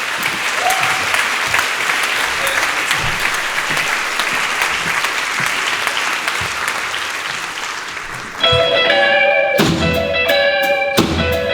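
An audience applauds the live band at a 2021-22 season presentation, loud dense clapping that runs for about eight seconds before the band cuts in with sharp, bright musical stabs.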